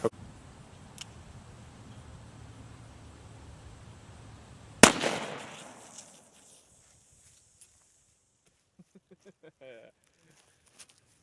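A single sharp crack rings out from a Colt 1849 .31 caliber pocket revolver fired at reactive targets outdoors, standing out against soft outdoor rustle before a quiet stretch broken by a few faint distant ticks.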